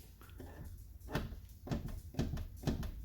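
Several soft, low clunks from a Nissan LEAF rear hatch and spoiler come at roughly half-second intervals, faint and close with a quiet room background.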